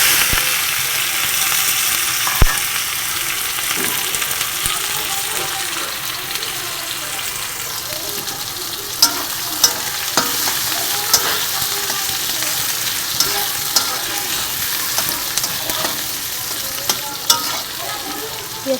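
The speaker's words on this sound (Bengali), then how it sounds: "পেঁয়াজটা একটু লাল লাল করে ভেজে নিতে হবে।" Chopped onion sizzles steadily in hot oil in a pan seasoned with black cumin (kalo jeera), with occasional sharp clicks and scrapes of a spatula stirring it, close and continuous without talk.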